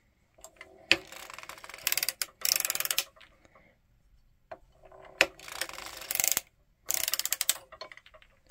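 Mechanical clicking and ratcheting from a sock knitting machine as its weights are adjusted, in several bursts separated by brief pauses, close and moderately loud, with no speech.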